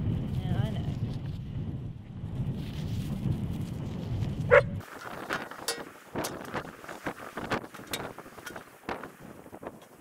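A dog gives a few sharp barks and yips amid wind buffeting the microphone outdoors in a winter food-forest garden, with a voice nearby.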